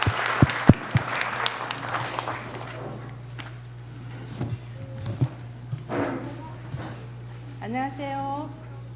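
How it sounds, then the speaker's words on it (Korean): Church congregation claps in blessing, a brief burst of applause at the start that quickly fades into room noise, scattered movement and a low steady hum, with speech following. "박수로 한번 축복해 주십시오."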